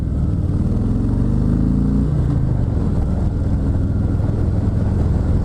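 A 2019 Harley-Davidson Fat Boy 114 motorcycle accelerates on a ride, its loud engine drone climbing in pitch, dropping at a gear change near two seconds, then pulling steadily on without any talk.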